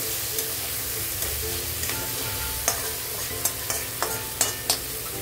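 Tomatoes with salt sautéing in a pan for dal palak, a steady soft sizzle under repeated scraping clicks of a spoon stirring against the pan, close and moderately quiet.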